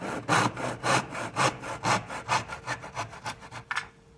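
A hand saw cuts a small wood piece for a phone holder in steady back-and-forth strokes, about four per second at first and quickening slightly, close and rasping, ending as the cut finishes.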